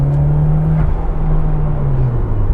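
A car accelerates at full throttle held in third gear, a loud, steady engine drone with a rising whine and low rumble heard from inside the cabin, continuous with no speech.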